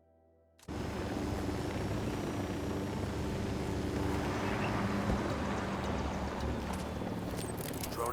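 A drone lifts off in Ghost Recon Wildlands, a steady whirring engine drone that starts abruptly after a brief quiet moment and holds loud and constant, with no voices.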